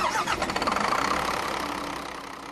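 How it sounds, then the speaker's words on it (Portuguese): Truck engine revving up and then settling, a loud rough mechanical rumble with rapid pulsing that gradually eases toward a steadier idle, heard alone. "Olha o barulho que a gente estava falando do caminhão."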